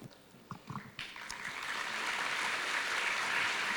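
Audience applause at an I.I.M.U.N. event with D.Y. Chandrachud rises from a few scattered claps into a dense, sustained wash of clapping that holds to the end, moderately distant in a large hall.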